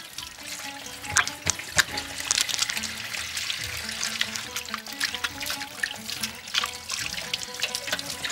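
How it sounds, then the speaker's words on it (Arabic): Running tap water splashes steadily into a sink while hands are washed underneath, close by, with faint background voices. "اغسل ايديا بس الاول عشان ما تروح الزفاره"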